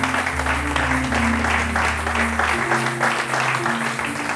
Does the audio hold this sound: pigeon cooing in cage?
no